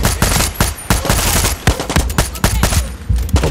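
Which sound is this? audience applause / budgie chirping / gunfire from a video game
gunfire from a video game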